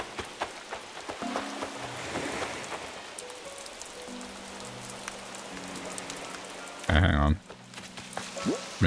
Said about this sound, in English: Oh, it's raining here.